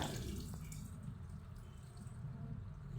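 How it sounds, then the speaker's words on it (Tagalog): Water runs steadily from a tap into a sink as a child washes dishes, a continuous close splashing with occasional faint clinks and no talking. "ang aking anak naghuhugas ng plato"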